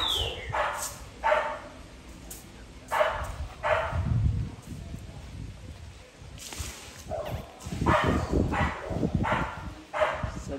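A pit bull puppy barks and yips in repeated short bursts at close range inside a kennel, with rustling and scuffling between the barks.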